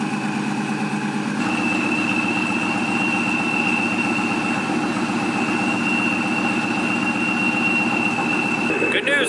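A car fitted with Kooks headers starts and settles into a steady, deep idle, its low engine rumble loud and continuous, with a rising whine near the end.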